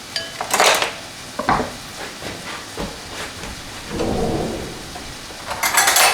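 Pork being stirred into a spicy hoisin-style sauce in a pan, with utensils scraping and clinking against the metal over a steady sizzling hiss, in bursts of close, moderately loud stirring.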